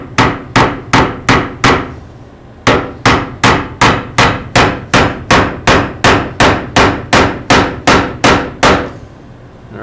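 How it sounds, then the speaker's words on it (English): A hammer drives a nail into wood while a table sub-assembly is being built. There are two runs of sharp, evenly spaced close blows, about five strikes then a pause, followed by a longer steady series. "you want to make sure when you're hammering, you're hitting it straight up and down."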